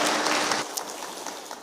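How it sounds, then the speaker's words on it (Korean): A church congregation at a Lunar New Year praise concert claps together in a full, steady burst of applause that fades slightly, with no voices over it. "우리 아랍신에게 격려의 박수 하겠습니다."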